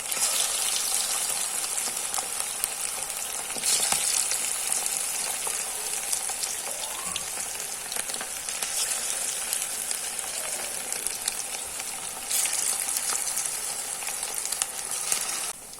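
Chicken kabab pieces fry in hot oil, making a steady, close crackling sizzle with occasional sharper pops and spatters throughout.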